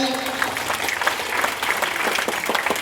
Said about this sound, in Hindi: और दिव्या के लिए जोरदार ताली।